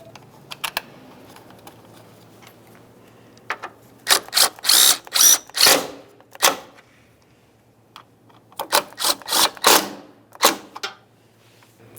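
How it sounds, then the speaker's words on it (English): A power tool drives the headlight mounting bolts on a 2000-2005 Buick LeSabre in short, loud bursts, in two clusters separated by a pause, with a few faint clicks in between. "Now we can start putting in our mounting bolts."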